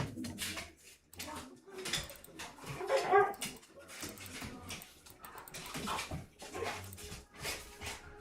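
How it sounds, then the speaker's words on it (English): Several dogs bark, yip and whimper in an agitated, scattered way, close by and fairly loud across the whole stretch, with brief louder bursts and a faint voice in the background. "my dogs are just going nuts"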